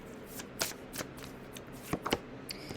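Astrology cards shuffled and pulled by hand, a run of crisp papery slaps and riffles, close and fairly quiet, with no talking over them.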